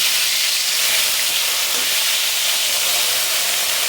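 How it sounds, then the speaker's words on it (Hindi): Fish fries in hot oil in a karahi, giving a loud, steady, even sizzle and hiss that fills the whole stretch with no talk over it. "अब डालूँ माँ मछली, गरम तो हो गई ना, रुक थोड़ा देर और देख लेते हो गए, डाल के देखते हैं"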